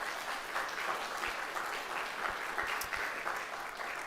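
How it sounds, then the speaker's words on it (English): A symposium audience applauds steadily throughout, dense clapping from many hands at moderate distance, with no pauses. "If we could get a round of applause just for everybody here today"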